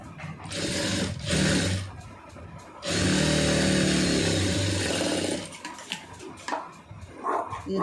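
A sewing machine runs in bursts, stitching a blouse lining: a short whir, a brief stop, then a long steady run of motor hum and needle clatter, followed by softer intermittent handling noises.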